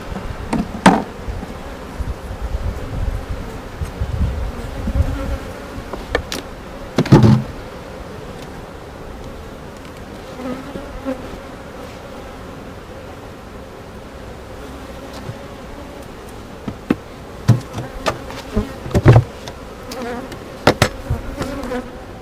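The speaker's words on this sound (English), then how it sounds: "That is a nice size swarm in the tree there." A honeybee swarm hangs in a tree beside a farm beehive, giving off a steady, moderately close buzzing with a few scattered knocks and thumps and no talking.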